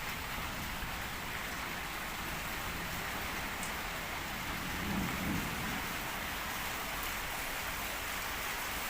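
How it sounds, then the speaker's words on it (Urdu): Heavy rain falls around an unfinished house in a steady broadband hiss. A dull low rumble swells briefly near the middle. "بارش کی سپیڈ اور تیز ہو گئی ہے۔"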